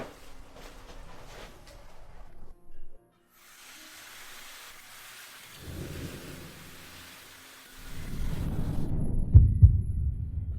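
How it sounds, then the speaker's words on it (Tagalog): A fast heartbeat sound effect in a drama scene: low, muffled thumping swells in near the end and grows loud and throbbing, after quieter rumbling and hiss, with no voices. "Bakit ang bilis ng tibok ng puso ko?"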